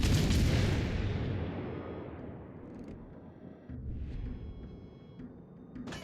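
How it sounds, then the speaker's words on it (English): A loud naval gun blast from a warship in World of Warships Legends opens the moment, its heavy boom trailing off into a long rumbling decay and ambient battle noise, with a softer distant shot near the end. "we'll take these shots here, see if we can't finish that one"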